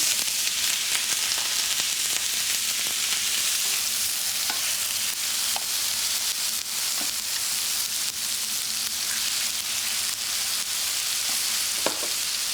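Steady, bright sizzling of lamb frying in a hot pan, a continuous crackling hiss with occasional sharper pops, close and fairly loud, no talking.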